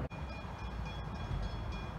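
A Belgrave service train rolls past trackside at Bedford Road, a continuous rumbling roar with rail noise and a faint high whine, steady and fairly close.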